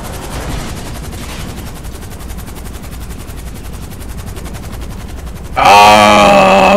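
Machine gun fire in the video game GTA V, a long continuous rapid rattle of automatic shots, loud and sustained, swelling into a harsher, louder burst near the end.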